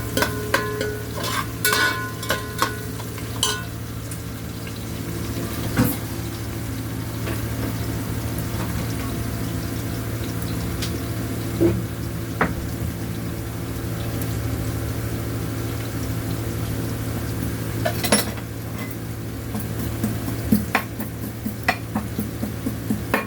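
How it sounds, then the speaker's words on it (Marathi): Onion frying in a pan and being stirred, a steady close sizzle with a low hum underneath and occasional scraping clicks of a spoon against the pan, no talking. "आपला कांदा जरा शिजायला आलाय, लाल व्हायला आलेला आहे।"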